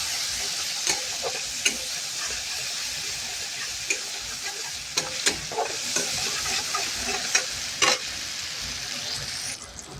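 Ground spices, cumin paste, coriander, chili and turmeric, fry in a pan with a continuous sizzle, punctuated by frequent scraping and tapping of a stirring spoon.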